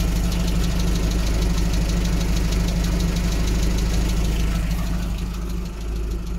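A car engine idles steadily, a low continuous rumble with a faint rhythmic knock, close by and alone.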